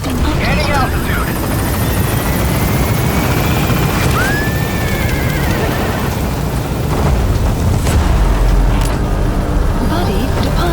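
A helicopter in Metal Gear Solid V: The Phantom Pain gaining altitude, its loud continuous rotor and engine roar close throughout, with game sound effects scattered over it and a voice speaking across it.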